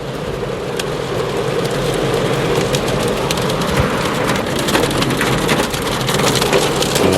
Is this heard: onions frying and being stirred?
no